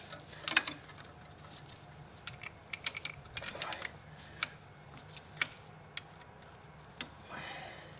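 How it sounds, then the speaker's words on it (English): Engine mounting securing bolts being undone on a Citroën DS21, with faint, irregular metallic clicks and ratchet ticks up close, scattered over several seconds against a quiet background. "So I'll take the mounting securing bolts off the top."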